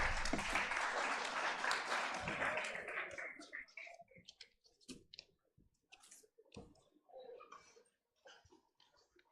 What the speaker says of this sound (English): I request to give a round of applause for the panelists.